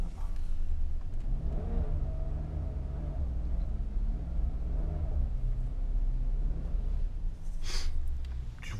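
2007 Maserati Quattroporte 4.2 V8 with 160,000 km revving at close range: a deep, loud rumbling engine that swells and falls in repeated throttle blips over a sustained low drone.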